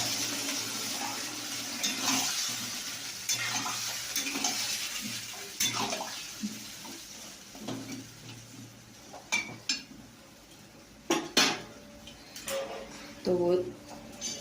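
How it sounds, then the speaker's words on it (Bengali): Water is poured into a cooking pot holding pointed gourd, a soft splashing wash at close range, followed by clinks of utensils against the pot while a voice talks over it. "এবারে পরিমাণ মতো একটু জল দিয়ে দিই।"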